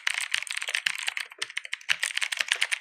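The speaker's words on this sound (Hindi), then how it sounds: "इसका जो ब्लू स्विचेस यार काफी ज्यादा लाउड है" Rapid, loud clicking of blue switches on a Zebronics Zeb Max Pro V2 mechanical gaming keyboard as keys are typed in quick irregular bursts, close up with no voices.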